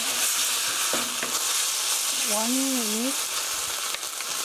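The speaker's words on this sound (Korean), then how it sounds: "살짝 볶아주세요. 1분간 볶아주세요." Tomato and sugar stir-frying in a pan produce a steady, close sizzle with spatula scrapes, while a voice speaks briefly over the continuous hiss.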